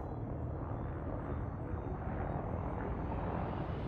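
A spaceship engine in the video game Elite Dangerous throttles up into a steady, low, rumbling drone that holds evenly and fairly quietly throughout, with no voices.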